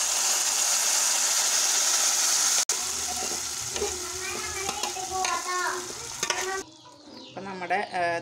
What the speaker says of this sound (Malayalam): ഇനി നമുക്ക് വേപ്പില ഇട്ട് കൊടുക്കാം, നന്നായിട്ട് മിക്സ് ചെയ്ത് കൊടുക്കാം.